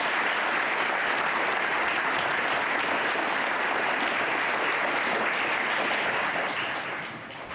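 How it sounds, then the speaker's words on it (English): An audience at a Wreaths Across America ceremony applauds its teachers, steady dense clapping from a crowd holding for several seconds before easing slightly at the end. "Let's give them a round of applause too"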